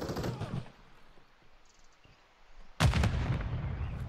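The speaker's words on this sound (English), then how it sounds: "Somebody threw a grenade at me." Grenade blast and gunfire in a PS5 shooter at the Estate, a Domination match: muffled shots early, then a sudden loud, close explosion at about three seconds with a booming broadband roar that rumbles on to the end.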